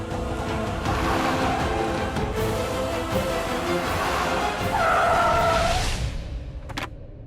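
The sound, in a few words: car approaching fast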